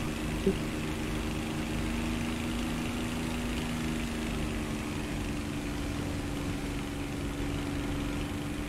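A War Thunder tank engine drones steadily at low pitch throughout, a continuous close rumble with a faint higher whine and no pauses.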